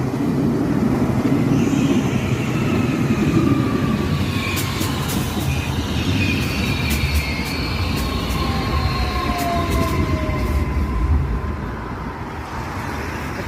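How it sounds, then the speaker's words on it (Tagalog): A train runs between Como and Milan in Italy, rolling along with a steady rumbling roar and clattering wheels at close range. Faint tonal squeals drift in and out, no one speaks, and the noise eases slightly toward the end. "Yan ang train na papuntang Milano,"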